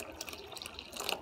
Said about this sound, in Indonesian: kasih air dikit ya guys.